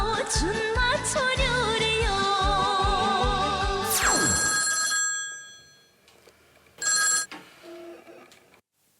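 A telephone rings in an office setting, a loud repeated electronic bell ringing that stops, followed by a couple of shorter tones and clicks as the call is picked up.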